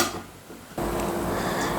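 A metal lid set down on a steaming pot in a home kitchen while making a sweet, a single clattering contact followed by a steady hiss of steam, with no voices.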